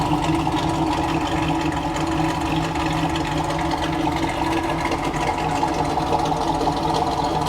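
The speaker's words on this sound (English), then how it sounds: "wonderful sound of that exhaust." A 1970 Camaro Z/28 with a 400 Pontiac engine idles steadily, its exhaust giving a continuous, even burble that is loud and close with no talk over it.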